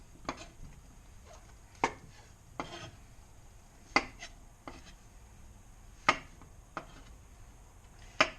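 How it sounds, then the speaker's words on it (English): A knife chops mushrooms in half on a board in a home kitchen, about ten sharp, separate knocks at an uneven pace, close and fairly quiet, with no talking. "I'm going to cut the mushrooms in half"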